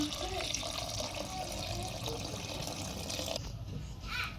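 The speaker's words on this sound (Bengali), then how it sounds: "পানিটা পরিমাণ মতো দিয়ে নিলাম" Water is poured into a pressure cooker for khichuri, giving a faint, steady splashing flow that continues throughout in a kitchen.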